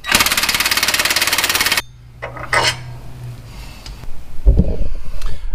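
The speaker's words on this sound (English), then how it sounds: "remove the rear sway bar links using 18 millimeter wrench and 18 millimeter socket" Wrench and socket work on the rear sway bar links of a Jeep JL: a loud, rapid burst of mechanical rattling, then quieter metallic clanks and scrapes close by.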